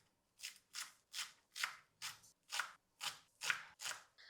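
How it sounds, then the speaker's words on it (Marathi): A knife chops fresh fenugreek (methi) leaves on a board in about nine crisp, evenly spaced strokes, close and clear with quiet gaps between. "आता भाजी आपल्याला चिरून घ्यावी लागेल."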